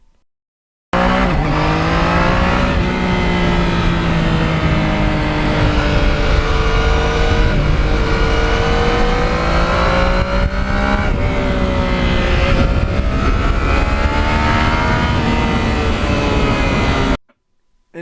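Yamaha MT-09 naked motorcycle ridden on open roads through sparsely populated areas, its engine loud and close, revving and shifting with rising and falling pitch that continues steadily for most of the ride before cutting off.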